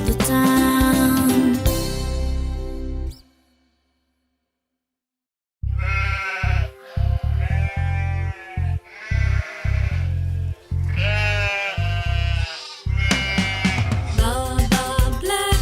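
Sheep bleat in several loud, wavering calls close by, separated by short gaps, with a sung children's nursery tune before and after them.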